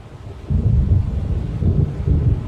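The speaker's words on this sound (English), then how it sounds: "It seems there's a storm coming." Deep thunder of an approaching storm in the game Alan Wake, a low rolling rumble that swells and sustains with a second surge, loud and close with no voices.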